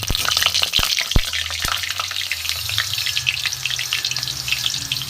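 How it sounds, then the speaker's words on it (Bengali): Whole cumin, a dry chilli and bay leaves fry in hot mustard oil, giving a loud, close, spitting sizzle with busy crackles and several sharp clicks of a spoon against the pan early on. "ফোড়নটা একটু ভাজা ভাজা হোক।"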